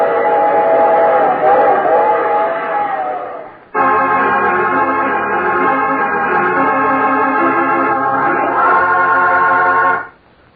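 A train whistle sounds in long sustained blasts, loud and near, broken by a short gap before a second extended blast that cuts off at the end.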